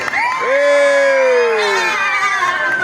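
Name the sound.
crowd cheering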